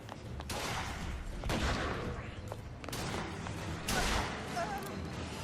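Gunfire in Bioshock Infinite: Burial at Sea, several heavy in-game shots and bursts with booming impacts spread across a few seconds, loud against a noisy game soundscape, with someone talking over them.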